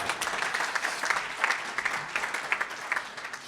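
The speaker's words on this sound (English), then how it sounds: "I'm sure they want to give themselves a cheer." Club staff, front-office executives and players applaud themselves at the 2022 MLS MVP award presentation for Hany Mukhtar: steady, moderately loud clapping from a group, with scattered sharper claps throughout.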